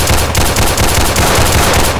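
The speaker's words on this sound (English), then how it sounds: "I missed all my shots" Rapid bursts of gunshots fire in a Roblox hood video game, loud, dense and continuous like automatic fire for about two seconds.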